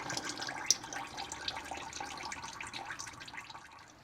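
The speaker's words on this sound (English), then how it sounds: "And then dump it into the pan." Motor oil from a Ford F-150 oil change pours and splatters into a drain pan, a soft continuous trickling with small drips, fairly quiet and close, tapering off toward the end.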